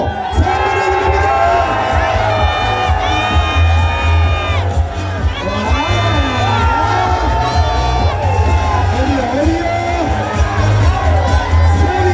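Hanwha Eagles baseball fans in the stands roar, whoop and shout in a continuous loud wall of crowd noise, with an amplified voice and chanting rising over it.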